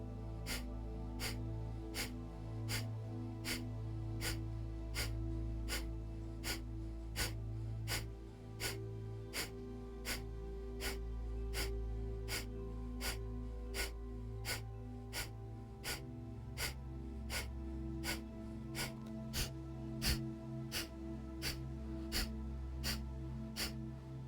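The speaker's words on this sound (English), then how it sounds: "we'll take a deep inhale in, and then we'll start our kapalabhati breathing" Kapalabhati breathing in a yoga session: forceful nasal exhales snapped out at a steady fast rhythm, each a sharp short puff, repeating evenly for a long stretch over a low background hum.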